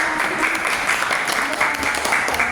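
Applause from a seated group after a classroom group presentation, a dense, steady patter of many hands clapping close by that continues throughout.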